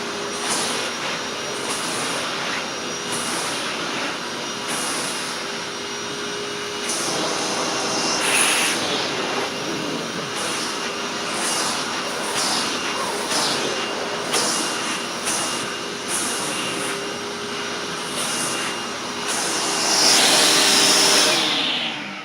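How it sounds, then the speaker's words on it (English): A Hoover Tempo Widepath upright vacuum cleaner runs continuously with a loud steady whine, its pitch shifting slightly as it moves, with occasional bumps and knocks. "You have to keep the vacuum kind of close."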